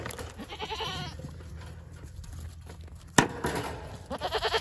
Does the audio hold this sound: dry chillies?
no